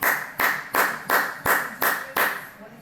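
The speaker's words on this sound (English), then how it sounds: "I can clap like a regular person." A single person claps their hands seven times in a steady, evenly spaced rhythm, each clap sharp and close, with a brief pause before the last one.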